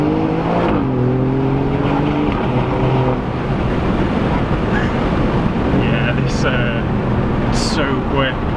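An Alfa Romeo Giulia Quadrifoglio, a 500-horsepower four-door saloon, drones loudly under acceleration with rising engine tones, heavy wind rush and road noise filling the cabin while a person speaks over it.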